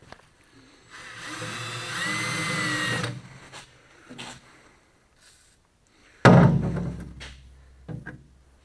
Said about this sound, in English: These hole saws don't seem to be affected by running the drill bit too fast as compared to other drill bits.